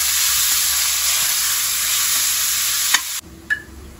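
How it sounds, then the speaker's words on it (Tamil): Chopped onions sizzle loudly and steadily in a pan for a mutton biriyani, then a spatula scrape and clack come near the end as the frying noise cuts off. "நம்ம அரிஞ்சு வச்சுருக்க வெங்காயத்தை இதில் ஆட் பண்ணணும்"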